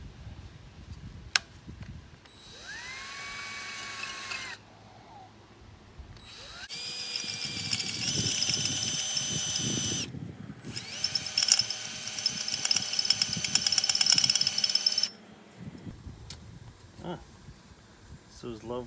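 A power drill with a titanium bit whines in several bursts, drilling out a quarter-20 hole in a Gravely 18G tractor's engine tins, spinning up and grinding steadily with a metallic edge, loud and close, with a person speaking between the runs.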